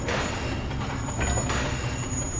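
A train rolls along in the Alien Isolation video game, a continuous close rumbling clatter with a faint high squeal on top.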